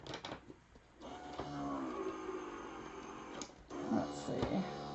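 A die-cutting machine feeds a scrap of vellum, giving a steady mechanical whirring grind with rising and falling motor tones, close and moderately loud, with talking over parts of it.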